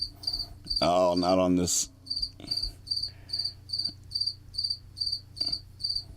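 A loud cricket chirps in regular, evenly spaced bursts close by, repeating steadily through the whole stretch; a person speaks briefly over the early chirps.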